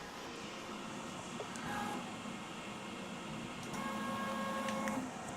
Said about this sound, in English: It's probing, making sure that the bed is level.